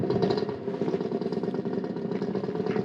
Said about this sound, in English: somebody's decided to get the motorbike out just behind me and they're revving up